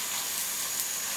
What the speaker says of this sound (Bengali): আদা এবং রসুন বাটাটাকে একটু ভেজে নিতে হবে